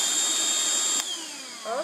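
Black+Decker cordless handheld vacuum cleaner: a loud high-pitched motor whine that cuts off abruptly about halfway and winds down, followed by a faint brief rattle near the end.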